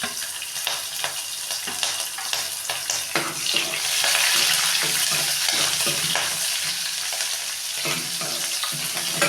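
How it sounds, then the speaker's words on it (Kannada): Onion and green chilli frying in a pan for palak bread upma, giving a steady close sizzle with faint stirring scrapes that grows a little louder midway, with no talking. "ನೋಡಿ ಇವಾಗ ಈರುಳ್ಳಿ ಹಾಕ್ತಾಯಿದ್ದೀನಿ ಈರುಳ್ಳಿ ಹಸಿಮೆಣಸಿನ್ಕಾಯಿ"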